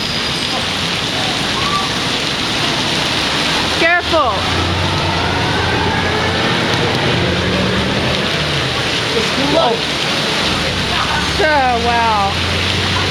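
Heavy summer rain pours down as a dense, constant hiss that stays loud throughout, with people talking now and then over the downpour.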